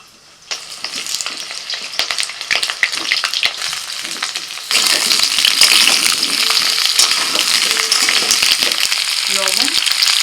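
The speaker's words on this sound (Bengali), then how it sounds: "প্রথমে আলুগুলোকে ভেজে নেব।" Potatoes frying in mustard oil in a wok, a loud, close, crackling sizzle with scraping stirs that swells and stays strong through the second half.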